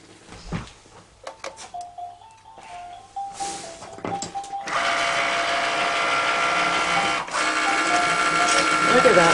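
A Cricut cutting machine with a rotary blade works through paper on a pink mat: a few beeps and clicks first, then a steady mechanical whirring and rattling as the cut runs.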